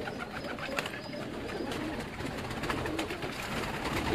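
A pigeon held in a man's hand coos softly and repeatedly, close by, over a constant background of outdoor noise.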